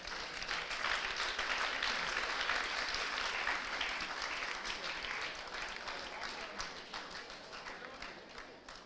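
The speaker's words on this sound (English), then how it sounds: "Your clapping is not that louder." An audience at an inaugural ceremony for a student induction program claps together in a dense, continuous wash of applause that slowly thins toward the end.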